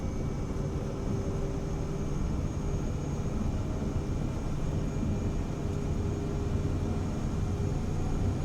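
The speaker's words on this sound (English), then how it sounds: "And we're taking off with the wind again." Small airplane taking off in Microsoft Flight Simulator 2024: a steady, droning propeller engine hum with constant wind rush, loud and unchanging throughout, with no voices.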